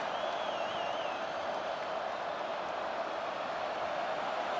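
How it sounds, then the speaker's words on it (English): Stadium crowd roar in College Football 25 during a Maryland at USC Trojans tournament game, a steady dense wash of cheering with a faint whistle-like tone early on and no commentary over it. "Listen to this crowd just shaking the girders of this place, trying to help their defense."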